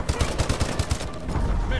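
Rapid automatic gunfire in a Call of Duty: Advanced Warfare multiplayer match, a loud burst of closely spaced shots rattling steadily for nearly two seconds.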